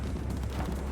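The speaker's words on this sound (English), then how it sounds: "They're throwing grenades at me." A single deep, rumbling grenade explosion in the video game Cyberpunk 2077, loud and close, with a heavy low-end boom filling the short moment.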